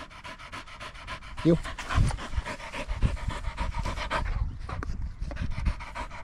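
A dog pants rapidly and rhythmically up close after two retrieves, the quick breaths running through the whole clip while a person speaks briefly over it.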